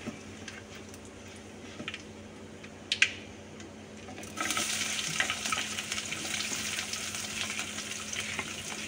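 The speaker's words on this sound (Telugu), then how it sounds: "జీలకర్ర, ఆవాలు, ఎండుమిర్చి, ఆవాలు, జీలకర్ర, కొబ్బరి నూనెతో క్యారెట్ ఫ్రై" Carrots frying in coconut oil with cumin, mustard seeds and dried red chillies, a steady close sizzle that jumps louder midway as the pan heats up, with a few small clinks of stirring.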